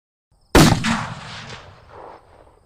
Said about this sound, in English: heard gunshots on the next block